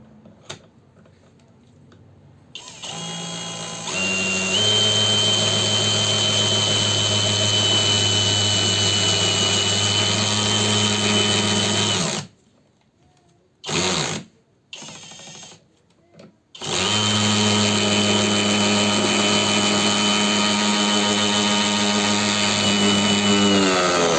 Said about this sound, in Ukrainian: Тепер хочу спробувати закрутити ось такий, довжина 165 і в діаметрі 12.